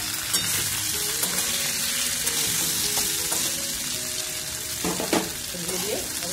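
Cauliflower fries in a pan with a steady bright sizzle, punctuated by occasional stirring scrapes and clatter, close and continuous.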